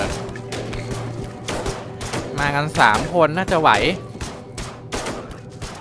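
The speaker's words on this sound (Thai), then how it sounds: "เหมือนเสียงปืนจะเรียกซอมบี้มาด้วยนะ เวลาทหารมันยิงนะครับ" Soldiers' gunfire in the video game They Are Billions: rapid gunshots crack repeatedly in sharp bursts, while someone talks over them midway through.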